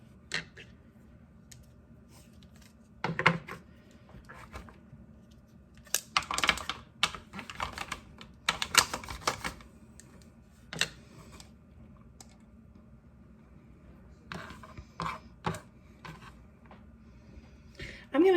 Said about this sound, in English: But we got a lot of mushrooms to cut up